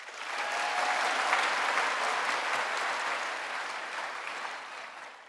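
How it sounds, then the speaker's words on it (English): Audience applause at the Roseville High School 2023 commencement, a steady, dense clapping from a large crowd that holds evenly throughout and tapers slightly at the end, with no talking. "A round of applause, please."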